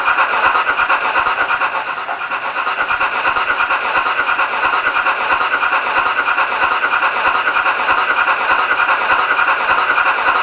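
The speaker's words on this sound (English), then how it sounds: "Let's go full whack. And look how steady that loco is." A Hornby Silver Fox model locomotive running at full speed, giving a steady, loud mechanical whir and hiss with a fine, rapid rattle underneath, continuous throughout and without any speech.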